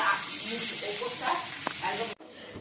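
Potatoes sizzle and hiss steadily in a frying pan in a home kitchen for a couple of seconds, with a brief stirring scrape near the end before the sound cuts off abruptly.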